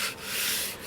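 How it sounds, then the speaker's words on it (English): A sanding block rubs back and forth on wood, shaping a taper on the elevator of a model Sopwith Pup. It gives one close, steady scratchy stroke with a slight swell. "Then I can use my sanding block and I can hold it at a slight angle"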